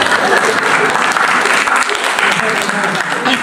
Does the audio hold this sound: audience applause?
yes